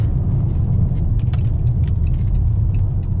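A Chrysler 300 rolls onto a gravel road, with a steady heavy rumble of tires and engine filling the cabin and scattered small crunches and ticks of stones over it.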